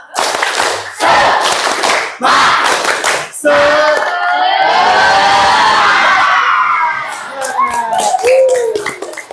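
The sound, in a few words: group rhythmic clapping, spirit clap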